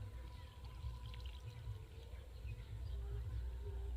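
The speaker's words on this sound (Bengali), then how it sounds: "এক বাটি আমি উষ্ণ গরম জল দিয়ে দিচ্ছি" A bowl of warm water is poured into batter, making a soft, continuous pour that is faint and close, over a low background rumble.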